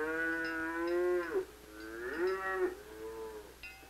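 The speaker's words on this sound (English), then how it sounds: "taking the cows to pasture" Dairy-farm cows low in a series of long, drawn-out moos, two full calls and a shorter third, loud and close over a quiet background.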